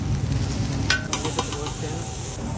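Oyster omelette frying on a griddle at a night market stall in Kuala Lumpur, a steady loud sizzle with scraping and stirring clatter, close by.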